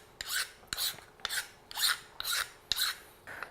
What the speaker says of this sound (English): So we've got that filed down now